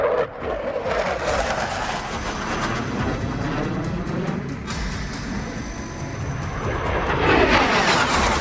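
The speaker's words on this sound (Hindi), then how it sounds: "पाकिस्तान में इस वक्त फाइटर जेट्स की आवाज ही गूंज रही है।" F-16 and JF-17 fighter jets roar overhead, a continuous broad rushing thunder that holds steady for several seconds and swells louder toward the end.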